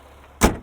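A single solid thud as the door of a 2021 GMC Acadia AT4 swings shut, short and close after a quiet moment, then fading quickly.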